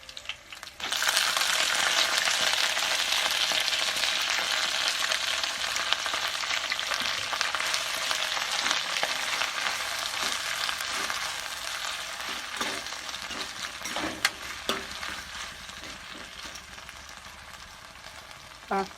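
Onion and lacinato kale greens sizzle steadily in a hot pan, a loud continuous hiss with occasional stirring clinks and scrapes, slowly easing off toward the end.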